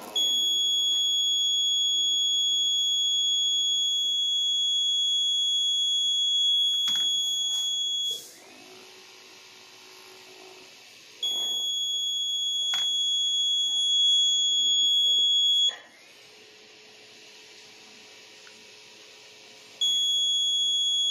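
A loud, steady electronic buzzer tone in a vehicle accident detection test rig drones for several seconds, twice cutting out to a softer DC motor whir before sounding again.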